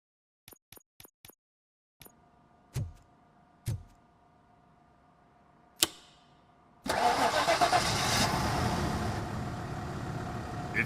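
A car engine starts in Robocop: Rogue City after a faulty disconnected coil is fixed: a few soft clicks and thumps, a cranking whine, then the engine catches and settles into a steady, fairly quiet idle.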